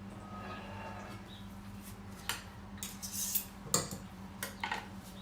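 A bench scraper drags across cake icing in a few short, scratchy strokes with light clicks, quiet and close, over a steady low hum.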